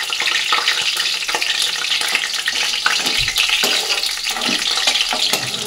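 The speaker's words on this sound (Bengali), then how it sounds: "আলু আর গাজরটা দেখো লাল লাল করে ভেজে এবার তুলে নেবো" Potato and carrot pieces fry in hot oil with a loud, dense crackling sizzle up close, broken by occasional scraping stirs and a dull knock, continuous throughout without speech.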